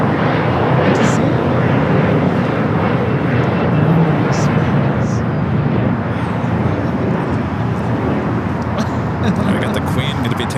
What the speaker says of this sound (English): The flight taking off here on the south side was Alaska Horizon. Flight 2149 heading to SFO